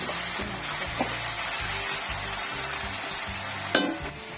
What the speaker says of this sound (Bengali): এবার রসুন বাটা দেবো। রসুন বাটা একটু কাঁচা গন্ধটা তুলে দেবো।